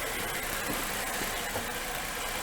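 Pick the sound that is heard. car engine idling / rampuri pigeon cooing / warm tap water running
car engine idling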